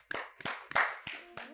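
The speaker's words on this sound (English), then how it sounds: "Give a round of applause for Rich, eh?" Five sharp, separate hand claps ring out close by in a boxing arena, spaced unevenly like a small, sparse round of applause rather than a crowd.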